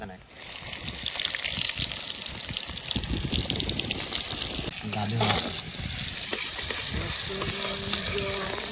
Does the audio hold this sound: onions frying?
yes